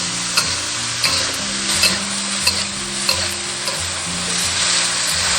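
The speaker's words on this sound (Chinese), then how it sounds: "然后加入豆芽，把豆芽炒至断生就可以了。" Bean sprouts stir-fry with ginger slices and chili bean paste in red oil, hissing loudly and steadily up close while a spatula scrapes the wok in regular strokes roughly every two-thirds of a second.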